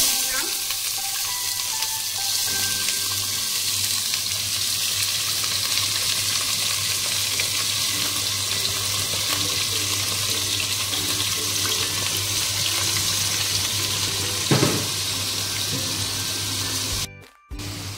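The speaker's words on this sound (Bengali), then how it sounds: "তেলটা গরম হয়ে গেছে। এইবারে সাদা জিরে, লবঙ্গ, এলাচ, দারচিনি, তেজপাতা তেলে দিয়ে দিলাম।" Whole cumin, cloves, cardamom, cinnamon and bay leaf fry in hot oil for chicken kosha, giving a steady, close sizzle that holds level throughout, with a few light clinks near the end and no voices.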